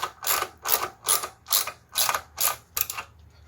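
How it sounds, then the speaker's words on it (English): A ratchet with a 14mm socket tightens a centerstand bolt on a 2014 Honda VFR 800 (RC79) motorcycle: seven evenly spaced, crisp ratcheting strokes, close up and alone. "So to tighten it, you will need a good old-fashioned 14mm socket."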